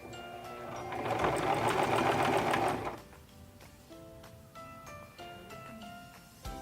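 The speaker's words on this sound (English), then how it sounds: "now we can start sewing" A sewing machine stitches a buttonhole bartack, a loud fast whirring run of tightly packed stitches for about two seconds, then quieter mechanical clicks and handling sounds, close by with no talking.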